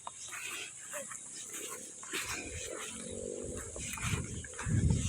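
Pigs kept out in the midday heat on a farm in Bohol give intermittent grunts and a few squeals, with a louder burst near the end, over steady background noise and faint voices.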